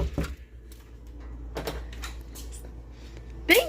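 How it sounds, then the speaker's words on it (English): Knuckles knock on a hotel room door in a few separate sharp raps, close by, with quiet room tone between them. "And now I'm gonna knock."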